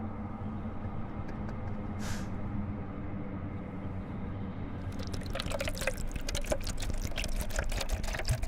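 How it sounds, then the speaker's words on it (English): Oil poured from high up in a gas station horror game, starting faint and then a busy splashing, crackling stream that runs steadily for several seconds, moderately loud with no talk. "Who pours oil from that high up?"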